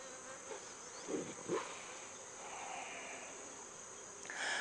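Honey bees buzzing close by while feeding on spilled honey during winter hive work in a cold climate, a faint continuous hum with a few louder passes of insects near the microphone.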